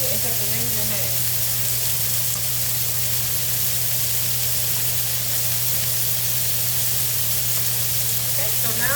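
Lamb steaks searing in a hot frying pan give a steady, loud sizzle and hiss that runs unbroken throughout, with a constant low hum beneath.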